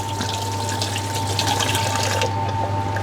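Tap water runs steadily from a kitchen faucet while lamb, shallots and chillies for Thai miang kham are washed, a constant close splashing hiss with a low hum beneath.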